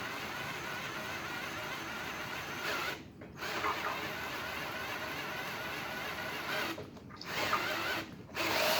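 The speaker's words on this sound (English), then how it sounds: "Ooh, drill struggling." Cordless drill priming engine oil through a small block V8, a steady, strained whir running throughout at moderate level with a few brief dips.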